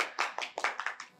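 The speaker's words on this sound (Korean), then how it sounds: "박수." A small group clapping for a music EP commentary, about a second of quick, close claps in a loose burst that fades out.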